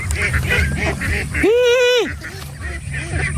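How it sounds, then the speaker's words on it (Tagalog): A single loud, close duck quack rings out from a flock of domestic ducks, layered over a steady murmur of softer quacking and chatter from the rest of the birds. "Yung wild na yung mga itik ko."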